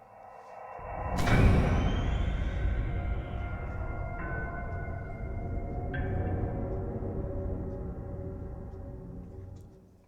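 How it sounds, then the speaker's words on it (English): Minecraft cave ambience: a low, eerie rumble swells after a second of silence, with a faint airy whoosh and tonal drones that hang and fade slowly, no voices. "Cave 17 sounds like this."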